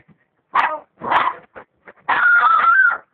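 A dog barks in several short, close bursts, then lets out a longer, whining, yelping bark; no one speaks.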